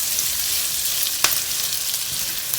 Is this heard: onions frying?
yes